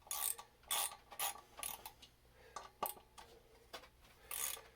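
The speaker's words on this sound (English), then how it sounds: "Reverse the ratchet." A ratchet clicks in short bursts while loosening the front wheel bolts on a Yamaha Roadstar Silverado 1600 motorcycle, several quick back-and-forth strokes close by, with no talking.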